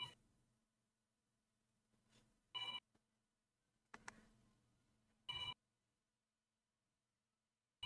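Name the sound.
mobile phone ringing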